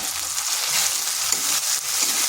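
Ginger garlic paste and turmeric frying over low heat in a pan, a steady close sizzle with faint stirring scrapes running throughout, no voices.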